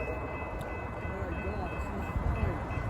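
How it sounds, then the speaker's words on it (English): Amtrak 56, a passenger train led by locomotive 145 in Phase 3 Heritage livery, rumbles past close by with a broad, steady roar that swells slightly toward the end, under a voice. "We have Amtrak 56 coming, and we have 145 in the lead."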